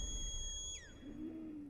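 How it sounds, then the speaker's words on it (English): A whistle in a scene from the 2025 Superman film: high steady tones that bend and slide downward partway through, faint over a low background rumble, lasting under two seconds. "It's a nice whistle."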